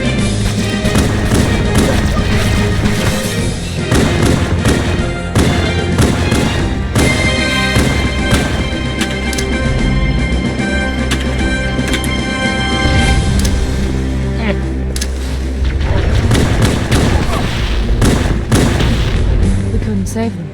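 Grenade blasts and heavy combat from Halo: Combat Evolved, a video game: dense, loud, continuous gunfire and thudding explosions with a booming low rumble, accompanied by music.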